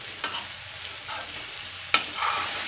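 A potato, pea and fenugreek curry sizzles steadily in a hot pan while a spoon scrapes and stirs it a couple of times. The sound is close and continuous, with no talking.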